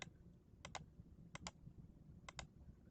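Keys pressed on a Vaydeer keyboard, heard as three quick double clicks spaced evenly apart, close and crisp over a low background hum.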